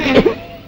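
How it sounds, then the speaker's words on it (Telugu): A short cough with a rough throat-clearing edge, close and loud, then a pause before a second cough begins. "ఎక్కడిది దగ్గు?"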